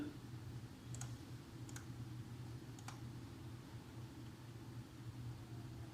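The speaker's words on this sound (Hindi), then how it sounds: "यहाँ पे आपने इसको टाइप कर देना है" Computer keyboard typing comes through as a few sparse, faint clicks over a low steady hum, with no voices.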